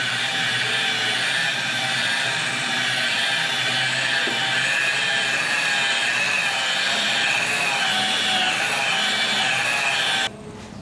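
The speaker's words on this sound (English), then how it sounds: "Harbor Freight buffer." Harbor Freight electric buffer polishing a classic car's fresh red paint with stage 2 compound, a steady loud whirring drone with a slight grinding texture that runs without pause and cuts off abruptly near the end, no voices.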